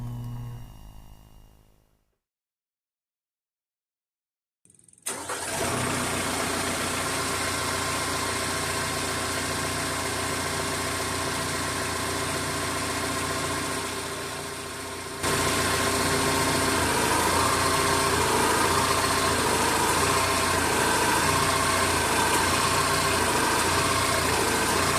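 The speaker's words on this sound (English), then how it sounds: "let's start the tractor up before we do anything and let it run" A tractor engine goes quiet for a few seconds, then cranks and catches, settling into a loud, steady idle that steps up slightly in level partway through and runs on without talk.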